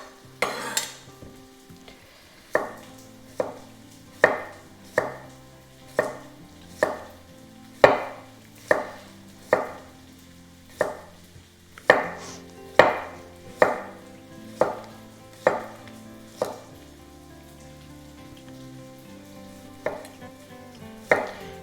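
Lebanese cucumber chopped on a cutting board with a knife, about twenty crisp, evenly spaced knocks in a steady rhythm, close and clear with no talk.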